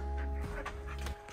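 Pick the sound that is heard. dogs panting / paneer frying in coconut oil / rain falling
dogs panting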